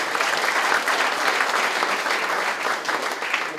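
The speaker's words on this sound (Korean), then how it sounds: "여러분 큰 박수 하나 한번 보내주십시오." Lawmakers at a Democratic Party of Korea workshop break into strong, sustained applause, a dense and even wall of many hands clapping together from start to finish.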